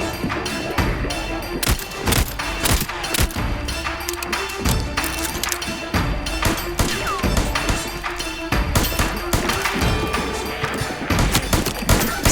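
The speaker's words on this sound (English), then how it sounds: "Just stand still while I shoot you." Rapid, sustained gunfire from shooting enemies in the video game Voidtrain, loud sharp shots in irregular quick bursts over a steady engine-like drone, continuing without pause.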